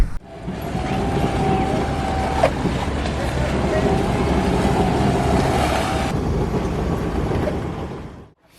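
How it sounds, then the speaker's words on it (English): A large ship's engine rumbles steadily nearby as it passes a sailboat on the way to Italy, a deep continuous drone with water wash, fading out at the end. "Why do they even have such big boats going in here?"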